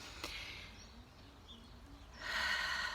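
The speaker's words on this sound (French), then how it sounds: "vous prenez une grande respiration" A slow, deep meditative breath drawn in quietly and let out, soft breathy air close to the mic, swelling louder toward the end with a faint tone in the background.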